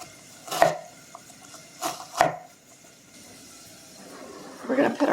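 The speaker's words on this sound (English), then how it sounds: "So I am going to try to chop it up real quick." A knife chops vegetables on a cutting board for a Southern ground-beef soup, with two sharp, separate chops early on and a quicker burst of cutting near the end, heard up close under faint kitchen background.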